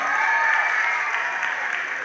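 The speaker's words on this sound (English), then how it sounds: "Let's give a nice round of applause for Mrs. Pagan for helping out this year." An audience claps steadily through a school elementary music festival, a dense and even wash of applause from a crowd of many hands, moderately loud and continuous for the whole moment.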